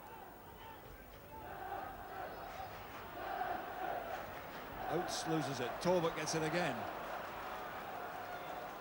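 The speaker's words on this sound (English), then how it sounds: "Now the crowd swelling to a roar, trying to push them forward" At a 1977 Newcastle football match, the stadium crowd rumbles under a commentator's voice, then swells into a louder roar of chanting and shouting before easing back to a steady din.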